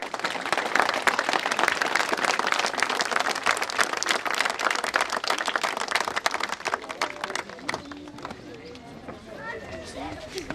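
A village gathering bursts into loud, dense applause that lasts several seconds, then thins out into scattered claps and murmuring voices.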